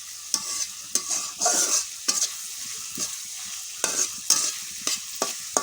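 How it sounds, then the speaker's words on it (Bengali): Onions and chillies fry in a pan under a constant sizzle, punctuated by regular scraping strokes as a spoon stirs them, close-up with no voices. "এখানে পেঁয়াজ মরিচগুলো ভালো মতন ভেজে নিব।"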